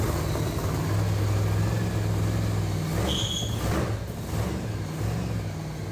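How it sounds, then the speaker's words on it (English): A supercharged LS engine fitted in a golf cart idles with a deep, steady low rumble, near and loud, with a brief higher whine around the middle. "I can't tell you how happy I was when I heard that blower whine and the engine roared to life."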